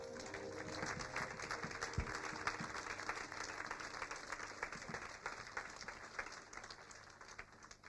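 A church congregation applauds during a morning prayer and fasting service, a dense, sustained crowd clapping heard at a moderate distance, fading slightly toward the end.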